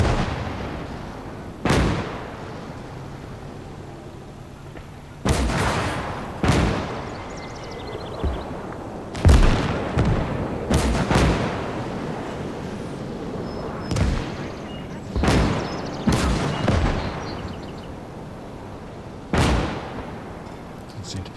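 Gunfire and artillery in the Gates of Hell strategy game, German campaign: a series of heavy booming shots and blasts at irregular intervals, some close and loud, others duller, over a low battlefield rumble.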